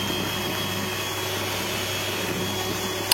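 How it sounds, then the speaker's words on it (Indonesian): An electric hand mixer whips sponge cake batter for a rolled cake, giving a steady, close, continuous motor whir with no talking. "Ini di mixer sampai putih kental dan berjejak."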